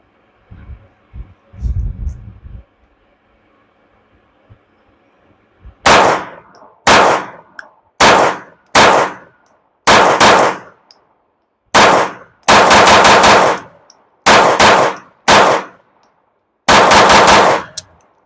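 A Jacob Grey Hex pistol fires 124 grain ammunition in a rapid string of about a dozen loud, sharp shots with uneven gaps between them, preceded by a few soft handling clicks.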